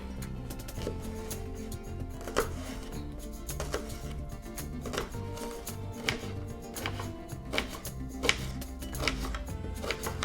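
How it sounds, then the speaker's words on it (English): A knife chops an onion on a board in a series of sharp, uneven taps, close up, over a faint steady background hum. "So we're going to start by chopping the onion."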